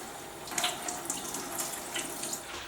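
Turkey breast rinsed under a running kitchen faucet: a steady stream of water splashes into the sink, close and continuous, with small shifts in spray as the meat is moved.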